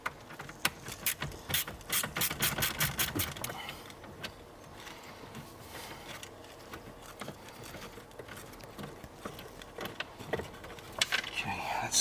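Screws being backed out of a MINI Cooper R50/R53 dashboard, quick ratcheting clicks in bursts early on, then scattered clinks and handling noises at close range.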